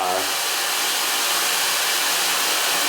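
A LettreQ professional ionic hair dryer running, a steady close airy whoosh that settles into a continuous even rush of air, with no talking.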